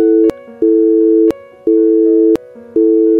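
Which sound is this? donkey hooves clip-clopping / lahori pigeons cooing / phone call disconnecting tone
phone call disconnecting tone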